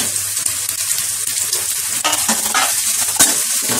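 Chopped cabbage and capsicum stir-fry in a hot pan for homemade noodles, giving a steady, loud, close sizzle with occasional scraping stirs and no talking.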